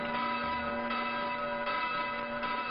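Church bells ringing in Cyprus, a steady sustained peal with rich ringing tones and repeated strikes, moderately loud and heard alone without voices.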